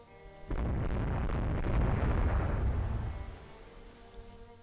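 Naval gunfire in the video game Rule the Waves 2: a loud booming explosion bursts in after a quiet start, rolls on for a few seconds, then fades into a low rumble.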